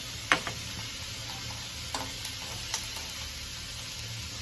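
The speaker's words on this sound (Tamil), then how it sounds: "கொஞ்சோண்டு தேங்காய் எண்ணெய் விட்டு கடுகு, வெந்தயம், கருவேப்பிலை காய்ச்சி போட்டுக்கலாம்" Mustard seeds, fenugreek and curry leaves fry in a little coconut oil, giving a quiet, steady sizzle broken by a few sharp pops near the start and scattered crackles after.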